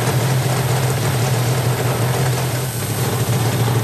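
A warmed-up Yamaha RD 500 (RZV 500) motorcycle engine idling during a service inspection, a loud, steady, unbroken drone running close and alone.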